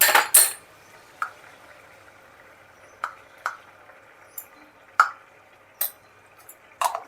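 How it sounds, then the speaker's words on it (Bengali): Garam masala is stirred into a pan over low heat, with a spoon clinking against the metal in sparse, sharp taps separated by near silence. "এখন আমি আঁচটা কমিয়ে দিয়ে অল্প একটু গরম মশলা মিশিয়ে নিচ্ছি।"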